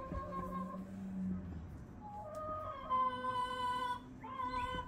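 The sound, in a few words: pet chicken clucking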